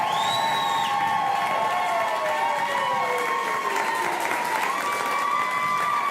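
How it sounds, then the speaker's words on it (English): Audience applause and cheering at a live stand-up comedy special in a theater, a steady wash of clapping from a crowd, with sustained tonal sounds layered over it. "So please give them a round of applause."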